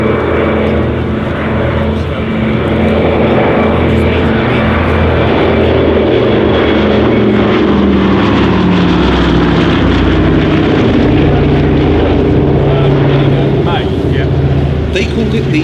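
A Douglas C-47 Skytrain propeller aircraft drones overhead at an air show, a loud steady multi-engine hum with slowly shifting pitch as it passes, while an announcer speaks over it.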